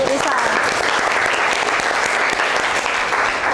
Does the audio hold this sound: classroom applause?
yes